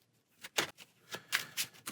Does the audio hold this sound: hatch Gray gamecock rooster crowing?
no